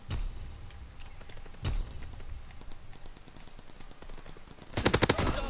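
Automatic fire from an MP40 submachine gun in a video game, heard as rapid repeated shots throughout and peaking in a loud, fast burst near the end.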